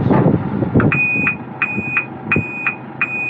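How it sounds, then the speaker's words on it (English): Steady repeating electronic beeps at an even pace, a vehicle's reverse warning signal, over a low engine rumble with a few thumps. "that really irritating loud beeping sound when you put it into reverse"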